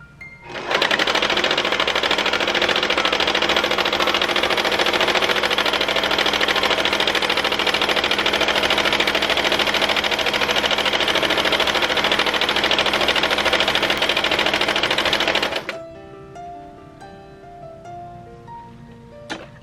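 A sewing machine running steadily and loudly for about fifteen seconds while stitching an automatic gathering, its rapid mechanical whir constant until it stops abruptly, leaving quiet room tones.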